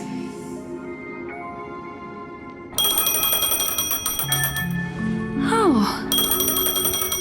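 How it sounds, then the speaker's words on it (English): Phone ringing in the Honkai Star Rail video game, a bright electronic ringtone of repeated bell-like tones that starts suddenly and continues loudly, with a falling melodic sweep partway through. "A phone."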